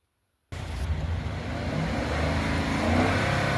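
Gasoline car engine with a misfire in cylinder 5 starts up and keeps running steadily and loud, a rough low-pitched drone with an uneven pulse that stays close and continuous with no talking.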